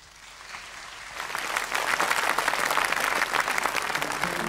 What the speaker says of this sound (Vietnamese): cho tràng pháo tay